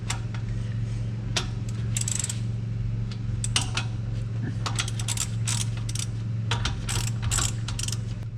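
Steady ratchet clicking in quick bursts over a constant low hum, close up, as bolts are cranked down during a Fox body Mustang 4.11 gear install.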